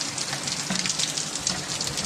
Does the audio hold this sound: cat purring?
no